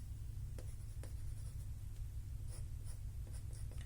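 A pen scratches lightly across paper while loosely sketching in shadows on a simple figure drawing, soft rapid strokes with a low steady background hum and no speech.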